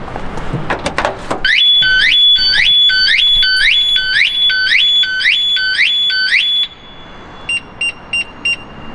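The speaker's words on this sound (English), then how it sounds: "a quick blip of the key fob and the alarm goes off" A loud alarm on a Porsche 356 blares with rapidly repeating rising electronic whoops, preceded by a door clunk and a few quick chirps from a key fob, then stops and gives short beeps.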